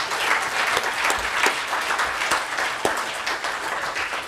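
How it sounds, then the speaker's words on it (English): A seated audience gives steady applause for a youth engagement panel, dense clapping throughout with a few sharper individual claps standing out. "I don't know if you want to show some applause for the panel"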